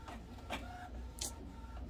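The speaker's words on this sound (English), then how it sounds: "So this is printing out" A home printer printing out on a shelf, giving a steady close run of mechanical whirring with a few sharper clicks and feed bursts, no talking.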